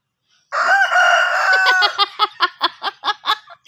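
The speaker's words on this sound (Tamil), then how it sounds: "கோழி சத்தம் போட்டுது, நான் சத்தம் போடல." A rooster crows loudly and close by in one long, drawn-out call, followed by a rapid run of short, rhythmic clucks.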